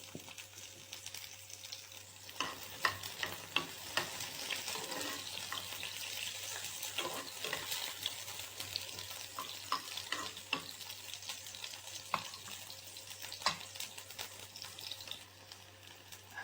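Onions frying in about two spoonfuls of oil in a pan give a steady, close sizzle with scattered crackles and pops that run unbroken, with no voices.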